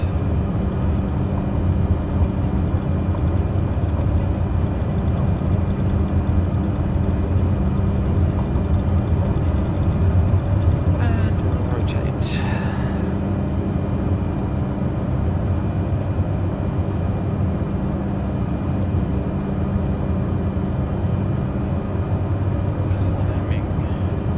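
An airplane holds a steady, loud, low engine roar, constant and near throughout, as it is set for takeoff with flaps, with a few brief clicks partway through.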